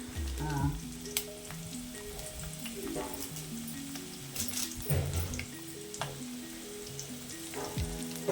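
Curry leaves crackle and sizzle in hot oil for a tomato chutney tempering, a steady close frying hiss with sharp pops and occasional stirring, while voices talk quietly underneath.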